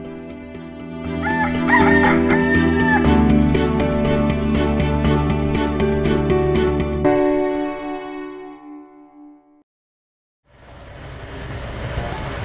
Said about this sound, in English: and so is this rooster.